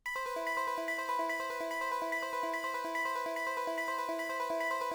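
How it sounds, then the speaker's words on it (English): A very fast, repetitive synth pluck melody programmed in FL Studio, a bright cycling pattern of short notes that carries on steadily and alone at a moderate level. "we are going to start off with this very repetitive, very fast, obnoxious pluck melody"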